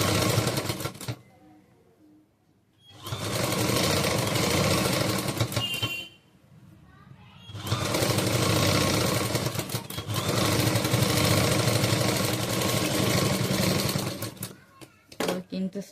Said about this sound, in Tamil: இப்போ இதே மாதிரி அந்த பக்கம் கையும் தைச்சி